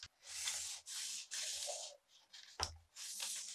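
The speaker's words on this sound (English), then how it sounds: "I'm going to draw a straight line" Pen strokes across pattern paper while drafting a tube bustier, a series of close, dry scratching rubs in several bursts, with a soft tap partway through.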